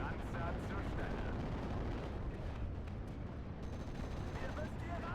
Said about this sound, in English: And let's do an artillery strike on this.